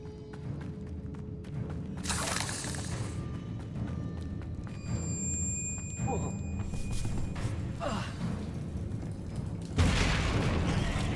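A Bombarda spell explosion blowing up spider sacks in Hogwarts Legacy, a few loud whooshing blasts and bursts spread across the scene over a low, rumbling cave ambience.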